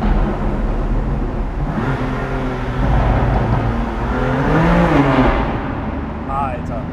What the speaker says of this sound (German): dann fahr mal jetzt ein bisschen langsamer und hör dir mal dein Auto an.